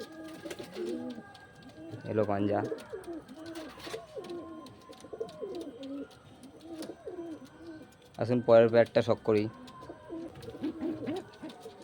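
Loft pigeons bred at home coo in rolling, repeated phrases throughout, close and clear, while someone talks over them in a couple of louder bursts.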